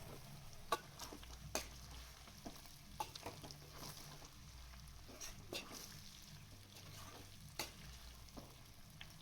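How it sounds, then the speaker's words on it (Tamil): Pallipalayam chicken stirred in a pan with a little sesame oil added, a soft low sizzle under scattered scraping and tapping from the spoon, quiet and close. "கொஞ்சமாக நல்லெண்ணெய் சேர்த்து ஒரு கிளறு கிளறி விட்டுட்டு இறக்கிக்கிடுவோம்"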